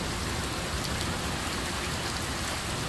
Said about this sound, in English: it's just heavy rain right now